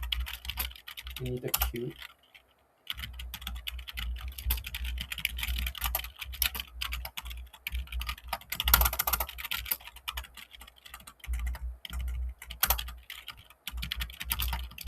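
Rapid clacking keystrokes as code is typed on a computer keyboard in Visual Studio, dense bursts with a short pause early on, close-up, with a voice speaking briefly over the typing.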